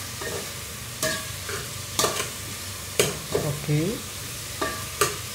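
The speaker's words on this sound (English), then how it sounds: "Imon is cooking." Food fries and sizzles in a pan as it is stirred, with metal spoon clanks against the pan at roughly one-second intervals over a steady hiss; a voice briefly speaks once.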